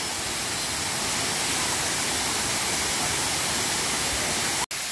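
Banyuwana waterfall in Wanagiri, Bali roars as a steady, loud, broadband rush of falling water, unbroken throughout apart from one brief dropout near the end.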